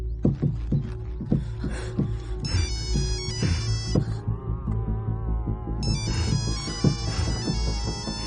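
A phone rings unanswered, sounding as a loud, close, repeating tonal ringtone with a throbbing pulse under it. It carries on for the whole stretch with no one speaking.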